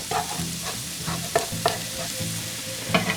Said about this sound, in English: See, this is starting to sizzle.